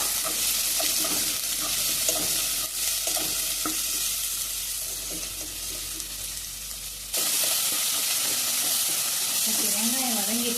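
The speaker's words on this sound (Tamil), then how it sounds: "இப்போ வெங்காயம் ஆட் பண்ணிக்கலாம் இது லைட்டாக வதக்கிக்கோங்க" Onions and cardamom fry in a pan for a mint chicken dish, a continuous close sizzle and hiss with scraping stirs throughout and a brief shift in the sound partway through.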